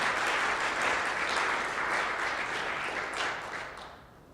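Audience applause at a primary care town hall meeting, a steady, moderately distant burst of clapping from a seated crowd that holds evenly and then fades out near the end, with no talking over it.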